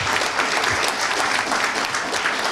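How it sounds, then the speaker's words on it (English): A school audience at a middle school National Junior Honor Society induction ceremony applauds, producing dense, continuous clapping that stays fairly loud and even from start to finish. "So let's give them the round of applause they deserve for all their support for you."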